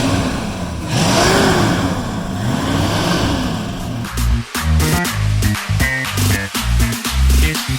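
A 1975 Ford Mustang II with a 302 Boss V8 rumbles loudly nearby, a sustained engine drone rising and falling, then breaking into choppy, uneven bursts toward the end.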